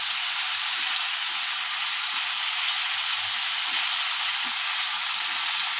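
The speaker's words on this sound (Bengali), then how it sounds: "আমি নুন হলুদ দিয়ে দিয়েছি দিয়ে একটু ভেজে নেবো" Pointed gourd frying with salt and turmeric gives a steady, dense sizzle throughout, with a few faint low clicks of stirring underneath and no voices.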